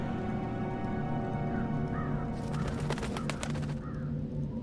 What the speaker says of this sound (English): I'm a bird. Crow's the name.